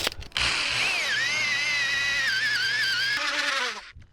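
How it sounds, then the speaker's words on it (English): A drill with an auger bit bores a hole for gate hardware, a short whining spin that starts abruptly, holds steady with shifting pitch for about three seconds, then winds down. "It's an auger bit, so it's pulling itself."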